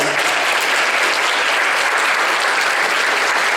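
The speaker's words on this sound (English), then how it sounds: "Let's give her a hand round of applause." An audience applauds a guest speaker at a Meharry gathering with dense, loud, continuous clapping that holds at an even level from start to finish, with no voices over it.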